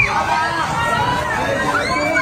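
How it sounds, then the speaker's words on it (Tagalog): A large crowd shouts and chatters at a late-night Flores de Mayo Santacruzan procession in Malabon, with a dense, steady roar of voices throughout. "Sigawan sila."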